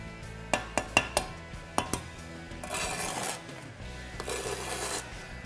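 A steel trowel buttering a brick with mortar: several sharp metallic taps and clinks, then two spells of soft scraping and smearing as the mortar is spread, close up with no talk.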